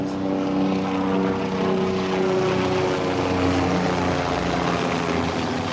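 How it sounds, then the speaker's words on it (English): A steady, loud droning rotor and engine roar fills the air continuously, holding level throughout without letting up. "Be cool to be in that helicopter. Nice little morning flight."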